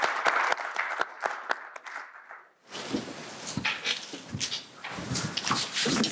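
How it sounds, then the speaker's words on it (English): At a public forum on policing in Scottsdale, Arizona, a few scattered sharp claps give way after a brief lull to fuller audience applause mixed with crowd noise and louder individual claps. "Let's give him another round of applause."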